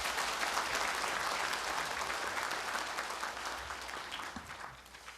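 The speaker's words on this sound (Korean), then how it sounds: "큰 박수를 부탁드리겠습니다." An audience at a seminar opening ceremony in the National Assembly gives sustained applause, dense clapping that gradually tapers off toward the end.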